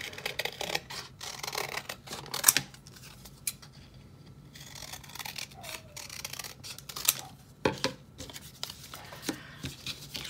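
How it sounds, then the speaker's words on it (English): Scissors snipping through paper in a classroom art project, making a series of irregular close crisp cuts with brief pauses and paper rustling between them. "I'm going to cut this out"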